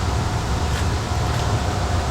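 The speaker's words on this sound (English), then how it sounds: "That's the sound of our air conditioning." An air conditioning unit runs steadily in a kitchen, a constant loud broadband hum with low rumble that stays even and unbroken from start to end, with no talk over it.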